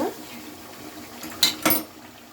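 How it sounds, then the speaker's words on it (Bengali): Meat and potato curry stirred in a pan, a spoon scraping and clinking against the metal in a couple of quick sharp knocks over a low simmering background. "দিয়ে এবার ভালো করে নাড়িয়ে নিচ্ছি একটু"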